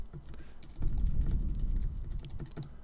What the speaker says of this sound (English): You can type it here if you want